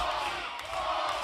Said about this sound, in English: This crowd trying to will Tony Gunn back on in this hour-long main event